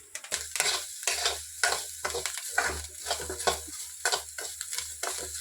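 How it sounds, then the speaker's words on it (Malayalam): Grated coconut and ginger roast in a pan with a splash of coconut oil, giving a steady sizzle broken by rhythmic scraping and stirring strokes close by. "എന്നിട്ട് നമുക്കിത് വറുത്തെടുക്കാം. തീയലിന് വറക്കുന്ന പോലെ വറുത്തെടുക്കണം."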